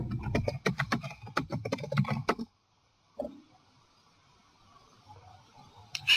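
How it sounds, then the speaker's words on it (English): A password being typed on a computer keyboard, a quick run of about a dozen close, crisp key clicks that stops abruptly, followed by a single soft knock and faint background noise. "Just type in my password again."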